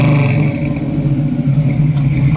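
A 1968 Chevrolet Camaro RS/SS restomod idles and revs nearby, its engine a loud, rumbling, slightly lumpy burble that stays steady throughout.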